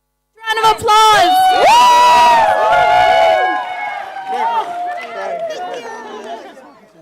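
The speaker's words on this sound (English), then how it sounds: "Round of applause." A crowd at the closing plenary of the International Conference on Family Planning erupts in loud cheers and whoops with excited chatter, the burst peaking early and settling into a sustained, lower hubbub.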